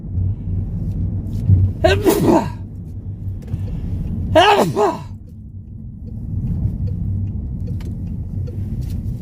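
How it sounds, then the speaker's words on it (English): Two sharp, explosive sneezes a couple of seconds apart, loud and close, over a steady low road rumble. "I'm going to sneeze"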